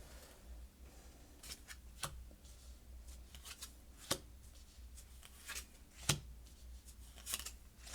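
A deck of Kipper fortune-telling cards is shuffled with soft, irregular flicks and sharper snaps over a faint background hum, close and quiet with no talking.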